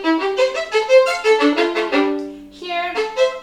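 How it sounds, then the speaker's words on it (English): Violin playing a fast spiccato passage, crisp bouncing short notes in quick rhythm mixed with ringing double stops, played close and clear with no talk. "double stops, even though it's a fast spiccato, like it sounds like this."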